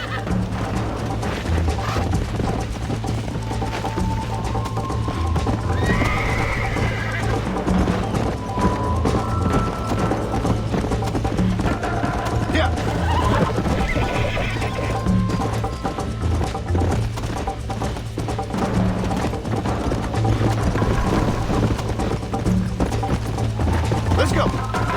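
Hooves clip-clop steadily with occasional whinnies from a horse in Red Dead Redemption, mixed with busy game sounds while people talk excitedly over it.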